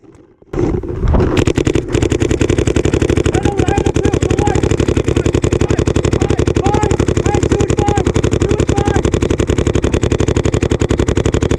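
Paintball guns firing in rapid continuous streams during a professional Super 7s tournament match in Australia, loud and close throughout after a brief quiet start, with faint shouting in the background.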